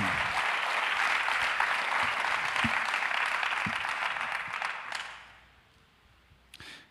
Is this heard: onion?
no